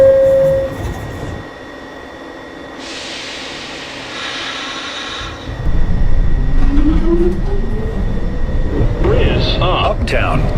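A New York City subway R142 train on the 2 line pulls out of 215 Street station: a door chime, a quieter pause, then rising motor whine and rumbling wheels as it accelerates away, with a station announcement voice over it.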